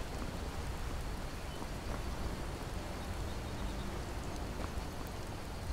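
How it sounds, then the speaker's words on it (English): Rain falls steadily in the video game Skyrim as a soft, even hiss of drops that stays constant and fairly faint throughout, with no other sounds standing out. "Oh, it's raining."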